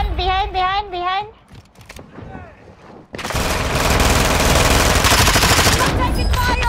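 Dense rapid gunfire in a Warzone match, a sustained loud burst of automatic shots from about three seconds on, after shouted voices and a quieter stretch.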